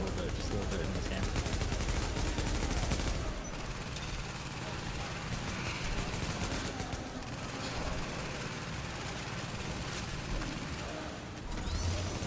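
Rapid bursts of automatic gunfire from the video game The Division ring out loud and close over a dense, cluttered battle mix, with a heavier volley in the first few seconds before steadier firing continues.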